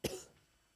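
One short, sharp cough bursts out near the microphone, then fades into quiet room tone.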